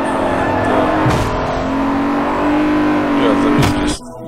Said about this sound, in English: You brake early and then you accelerate out of the corner.